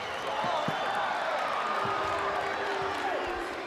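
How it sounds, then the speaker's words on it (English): A crowd at a 1988 junior basketball game between the USA and the USSR murmurs and reacts with steady, loud, dense noise after a foul call, with scattered shouts and a few sharp thumps rising above the roar. "Crowd not happy with that call."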